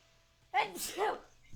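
A single sharp sneeze from a person with a cold, close and fairly loud, in a quiet indoor setting.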